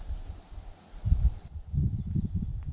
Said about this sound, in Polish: Nie wiem, czy słychać te świerszcze.